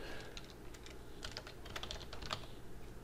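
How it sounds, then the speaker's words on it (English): Quick, soft keystrokes on a computer keyboard as a file name is typed, a light irregular patter of clicks heard close and quiet with no talking. "you can actually just go up here and type whatever name you want"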